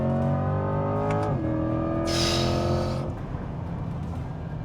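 A 2025 Chevrolet Corvette E-Ray, a mid-engine all-wheel-drive hybrid with an electric motor, accelerates hard. Its engine note climbs steadily, drops at a gear change, then climbs again under a loud rush of wind and road noise.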